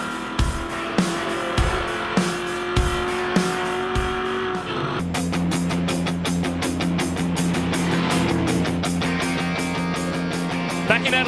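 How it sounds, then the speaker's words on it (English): V8 ute race cars roar through a lap at the Adelaide circuit, engines revving hard with regular gear-shift pulses, then a denser, louder pack sound as more cars pass close by, with no talk. "It's lap 8 in the V8 utes in Adelaide."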